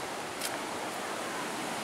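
Surf at Nguyahan Beach in Gunung Kidul, Yogyakarta, heard from a hilltop above the shore: a steady, distant wash of waves with broadband hiss and no clear individual breakers, no voices.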